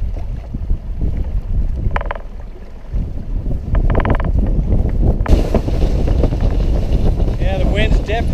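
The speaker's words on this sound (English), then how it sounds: "Yeah, the wind's definitely picking up." Wind gusting over Lake Powell from a small fishing boat, a steady loud rumble of wind buffeting the microphone, with brief faint voices and water noise underneath.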